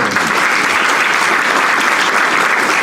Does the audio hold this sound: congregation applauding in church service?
yes